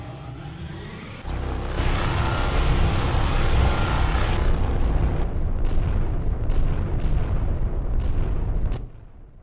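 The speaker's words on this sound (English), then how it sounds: "Targeting the chitin with primary photon beam cannons. Gunnery control. Open fire." Photon beam cannons fire at a chitin target in the video game Blue Planet, a loud, sustained roaring barrage that starts abruptly, rumbles on for several seconds with crackling bursts, then cuts off.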